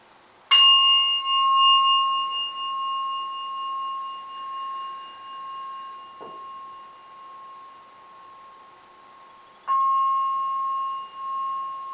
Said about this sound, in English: Now I'm going to ring the gong 3 times to end this meditation.